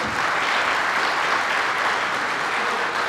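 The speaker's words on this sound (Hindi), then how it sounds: "प्लीज़ इनके लिए बहुत ढेर सी तालियां बजाएं सब" An audience gives sustained, even applause for a college team at a launch event, with dense clapping from a sizeable crowd filling the whole stretch at a constant level.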